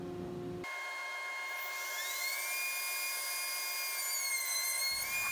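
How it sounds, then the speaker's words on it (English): A wood router fitted with a half-inch roundover bit whines at high pitch. The tone climbs as the bit spins up, then holds steady and close, with no one talking. "I'm using my new half-inch roundover bit"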